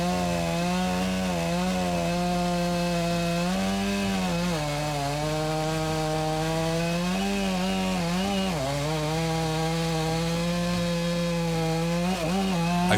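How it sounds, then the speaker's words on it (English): Chainsaw making a face cut into a tree trunk during felling, a loud continuous engine drone near the microphone, its pitch dipping and recovering several times as the chain bites into the wood. "I start the cutting with a regular face cut."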